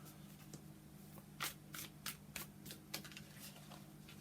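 Oversized tarot cards being shuffled, a bed of quiet hum beneath a run of crisp riffling bursts about every half second, each a short papery flutter close to the listener, with no voices.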